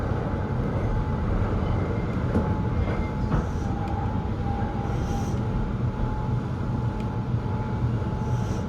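A Keihan Keishin Line train stands at Biwako-Hamaotsu, the terminal station, giving off a steady, close rumble with a faint sustained tone and no clear breaks.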